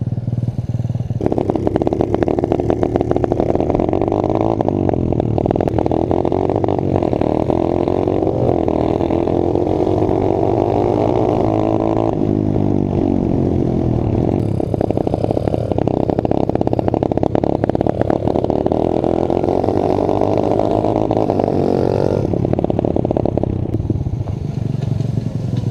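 A pit bike engine revs hard and steadily while climbing a hill, a loud continuous buzzing drone with shifting pitch and some mechanical clatter, alone for nearly half a minute.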